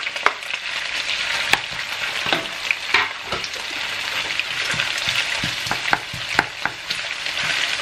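Onion frying in a pan alongside browned meat, a continuous crackling sizzle broken by frequent sharp spatula scrapes and taps, close and moderately loud, no talking.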